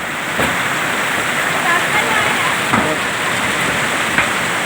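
A waterfall rushes beside a mountain trail near Gurudwara Govind Dham in Uttarakhand, a loud, continuous roar with a few faint clicks and bumps on top and no talk.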